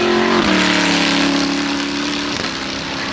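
Arrinera Hussarya GT3 race car at Goodwood Festival of Speed 2017, its engine roaring loud and near, dropping pitch at a gear change, holding a steady note, then shifting again and fading slightly.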